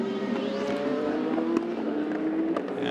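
Prototype race cars at Fuji Speedway during WEC 6 Hours qualifying, a steady high engine whine with faint passing surges, heard at a distance and fairly subdued for a few seconds.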